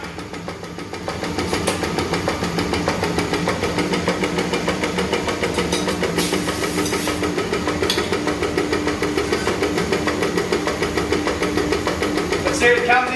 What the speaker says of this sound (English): Let's see if it comes into an idle once it starts